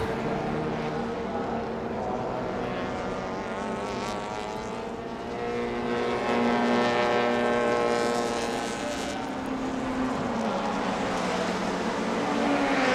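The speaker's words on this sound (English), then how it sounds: "you can hear the Honda buzz." Honda race car engines buzz past on the circuit near Buriram, a loud, sustained high-pitched whine with layered engines rising and falling in pitch as cars pass, continuous throughout.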